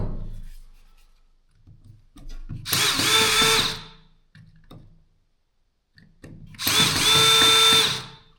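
A DeWalt cordless drill, suspected of having a bad switch, whirs up in two loud bursts of about a second and a half each, with quiet pauses and faint handling noise between them.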